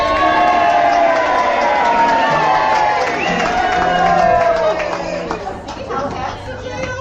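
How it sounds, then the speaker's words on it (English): Audience at a stage play cheers and whoops as two heroes make their entrance, a dense, loud wash of crowd voices and chatter that swells mid-way and then eases off. "And when they make their entrance, you cheer."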